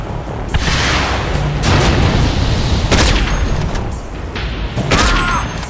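Dense, continuous rumbling blasts and booming explosions from the strategy game Mental Omega, loud and chaotic, with several sharper bursts punching through a constant roar of gunfire-like noise.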